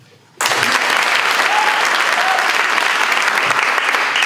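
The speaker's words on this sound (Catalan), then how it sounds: "ara us demano que aplaudim amb molta energia" An audience in a talk on applause bursts into loud, energetic clapping after a brief quiet moment, a dense continuous wash of many hands that holds steady to the end.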